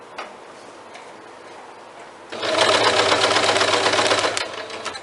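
A sewing machine stitches bias binding onto a plastic bag for a tote, starting with quiet ticking and then breaking into a loud, fast, close-up whir for about two seconds before slowing.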